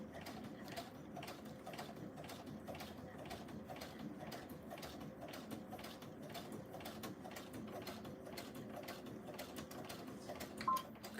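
Sewing machine stitching a line of fabric, a quiet steady mechanical whirring and rapid clicking that runs continuously, with a small knock near the end.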